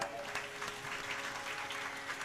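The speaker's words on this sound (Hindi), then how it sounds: "तालियां बड़ी कमजोर है," Sparse, weak applause from an audience at a spiritual discourse on Rama, a thin patter of scattered claps at low volume that carries on evenly throughout.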